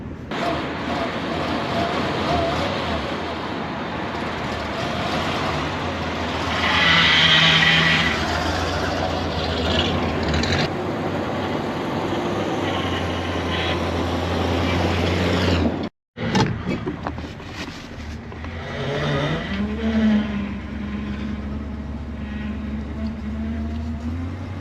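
A 1974 GMC Grand Sierra dually truck with a 454 big block engine rumbles steadily and loudly close by as it runs and moves. A brief cutout comes partway through, and then the engine and a faint whine carry on.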